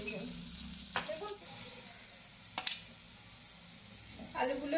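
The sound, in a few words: potatoes and pointed gourd added to frying pan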